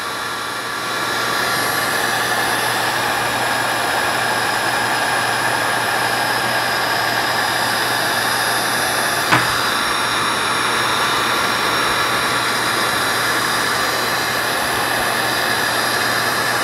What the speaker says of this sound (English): And then just hold the heat gun over to solder, and that will basically melt into that connection.